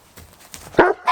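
A pet dog near a garden hydrangea transplanting project gives a couple of sharp, loud barks close by, the second shortly after the first, preceded by faint movement.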